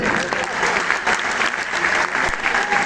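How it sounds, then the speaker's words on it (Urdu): A crowd at the Yaad e Salamat 2024 event claps steadily, a dense, loud wash of applause filling the whole moment. "کھل کے تالی بجائیں"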